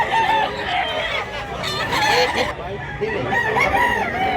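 Gamecock crowing at a rooster market in Mantalungon, Cebu, a loud close crow with clucks among busy bystanders talking.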